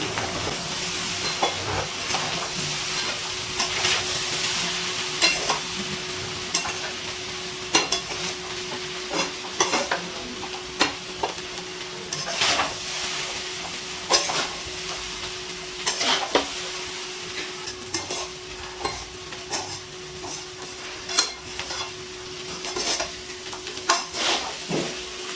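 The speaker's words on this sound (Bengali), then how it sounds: "সব কিছু দেওয়ার পর এবার খুব হালকা হাতে সব কিছু মিশিয়ে নিচ্ছি" Fried rice with shrimp, chicken and egg being gently stirred in a hot pan for Bangladeshi-style mixed fried rice, a steady sizzle and hiss with frequent soft scraping and clinks of the spatula against the pan, close and continuous without talk.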